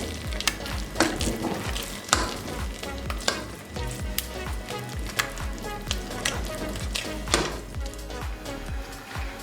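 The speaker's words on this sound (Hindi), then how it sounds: "अब ये डाल देंगे इसमें और इनको गोल्डन होने तक फ्राई कर लेंगे।" Garlic cloves frying in hot oil in a pan for a daal tadka, a steady close sizzle with repeated stirring and scraping taps throughout.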